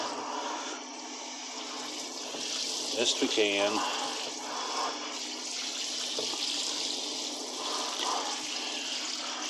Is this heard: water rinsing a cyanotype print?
yes